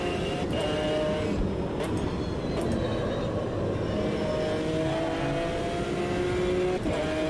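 A GT1 race car with a flat-configuration engine in the Automobilista 2 racing game drones steadily and loud throughout, its engine note holding a continuous tone with slight pitch shifts and no talk.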